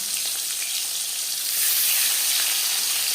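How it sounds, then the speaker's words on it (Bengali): Marinated rohu fish sizzling in hot refined oil in a pan, a steady close crackling fry throughout that grows slightly louder midway, with no talking. "4 চামচ রিফাইন্ড অয়েল গরম করে নেওয়ার পর দিয়ে দিলাম ম্যারিনেট করে রাখা মাছ"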